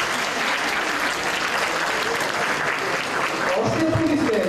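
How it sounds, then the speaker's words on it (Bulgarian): An audience at a university celebration applauds steadily with sustained clapping throughout, and voices can be heard talking over it near the end. "Аплодисменти за колежката."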